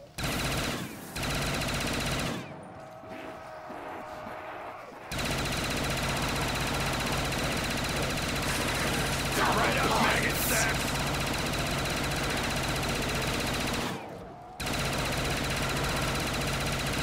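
Sustained rapid automatic gunfire in Black Ops III custom zombies, loud and nearly continuous with a couple of brief pauses between bursts.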